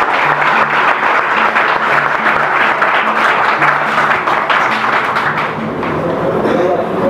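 An audience at a school annual meet applauds to welcome the director, Dhirubhai Vaghadiya: dense, sustained clapping that fills the room, with a low hum and faint voices beneath, tapering slightly near the end.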